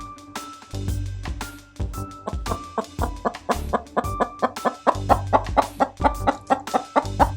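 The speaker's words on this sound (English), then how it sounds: "It's a chicken." A chicken clucks in a steady run of short, repeated calls that quicken and grow louder toward the end, with low thumps underneath and no talking.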